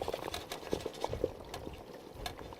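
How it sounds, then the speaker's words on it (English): French fries sizzle in hot oil at a cottage cookout, with soft, irregular bubbling and popping crackles that stay fairly quiet and close, and no voices. "as you put more fries in, it cools the oil down"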